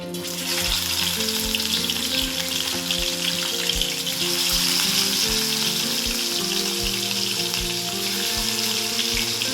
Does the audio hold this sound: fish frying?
yes